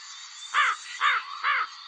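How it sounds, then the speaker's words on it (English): Three rasping caws from a crow in a steady rhythm, near and distinct, over a faint constant hiss. "The crow is a bird of black color."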